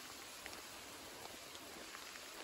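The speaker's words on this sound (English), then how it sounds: "The rain is definitely a light rain." Light rain patters steadily on a mountain trail in the Carter-Moriah Range, a soft, even hiss with scattered faint drops, no voices.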